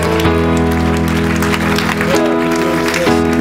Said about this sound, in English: Come on, give Jesus a hand clap of praise.